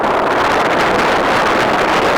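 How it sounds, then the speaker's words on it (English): Strong wind gusting across an open outdoor field during a college ultimate championship final, a steady loud broadband roar with microphone buffeting that holds without a break throughout. "It's a big gust of wind that's coming in right now."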